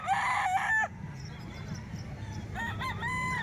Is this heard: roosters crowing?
yes